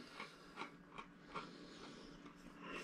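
Biting and crunching an old military ration cracker, a few faint, sharp crisp snaps spaced through a quiet room, close to the mouth with no talking.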